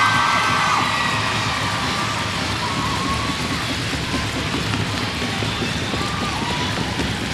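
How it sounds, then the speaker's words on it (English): A school audience gives steady applause and cheering for the jazz band at the 2012 Keith Valley Challenge, a dense, continuous roar of clapping and shouting voices. "let's give the round of applause,"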